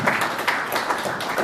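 Audience applause at a peace forum in Derry, Ireland, a short burst of steady hand clapping from a modest indoor crowd, fairly close and without talking.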